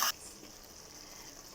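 Gravy for jackfruit masala curry simmering in a pan, a soft, steady sizzle and bubbling after a brief louder burst at the start, faint and alone.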